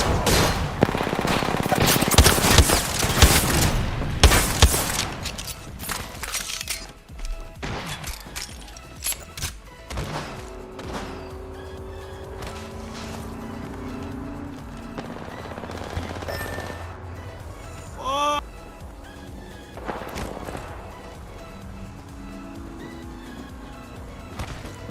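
Video game gunfire comes in dense automatic bursts, loud and close at the start, then thins to scattered shots and thuds over game sounds.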